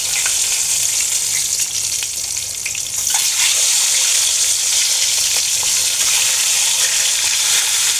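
Hilsa fish frying in a pan gives a steady, loud sizzle with crackling that carries on through the whole stretch. It flares up a little brighter after a brief dip near the start, with some stirring noise, and no voices.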